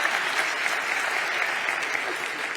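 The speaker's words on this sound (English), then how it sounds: "Can I get a round of applause for you?" Audience applause at the LeadDev Berlin 2022 tech conference, a steady, dense wash of many hands clapping throughout, fairly loud and even with no talk over it.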